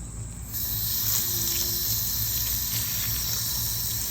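Water squeezed and wrung from a Shark Duo Clean vacuum cleaner sponge, a steady close trickling and gushing hiss that runs without a break after a brief quieter start.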